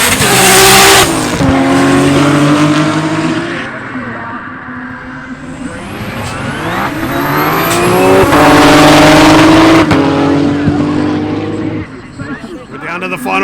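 Nissan Skyline GT-R race cars, including an R32, race on a festival track, their engines revving hard and swelling as they pass in close succession, with tire noise and a commentator talking over them.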